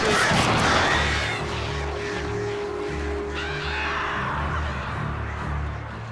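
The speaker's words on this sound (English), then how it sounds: "Goddamn birds, leave me the fuck alone." Crows cawing in the Alan Wake video game, a dense, loud flurry of harsh caws and flapping over a steady low rumble, with no talking.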